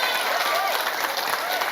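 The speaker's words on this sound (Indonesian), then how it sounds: "Tepuk tangan dulu." An audience at an Islamic religious gathering claps in a dense, steady wash of applause that fills the whole moment, with voices mixed in.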